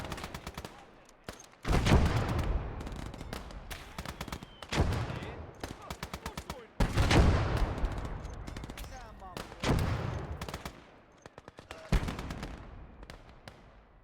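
Machine gun fire in a WWII real-time strategy game: rapid rattling bursts and scattered gunshots, loud and repeated, with short gaps between volleys and other battle noise around them.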